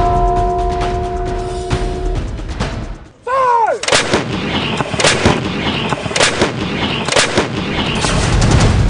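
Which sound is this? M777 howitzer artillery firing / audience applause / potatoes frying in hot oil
M777 howitzer artillery firing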